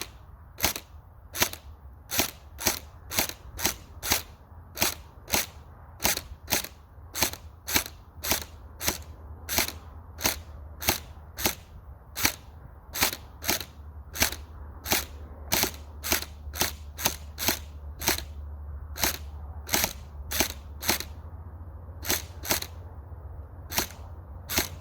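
A gel blaster firing Ozgel Ultra hard gels, a long series of sharp, loud single snaps spaced about a second apart, repeating steadily for around twenty-five seconds over a low background hum.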